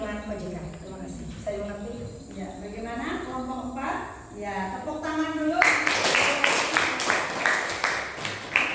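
A class audience breaks into loud applause for a group presentation, with dense clapping that follows a stretch of voices and continues strongly to the end.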